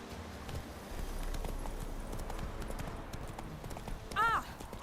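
Hooves clip-clop steadily as a horse gallops in The Witcher 3, a continuous rhythmic patter under game ambience, with a short horse whinny near the end and a voice speaking briefly.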